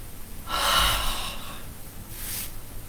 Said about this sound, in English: Again, lovely hard breath.